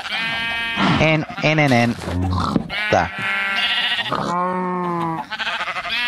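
Sheep in the Sevtech Ages Minecraft modpack bleat repeatedly in quick, overlapping calls, loud and close, with a brief spoken word among them.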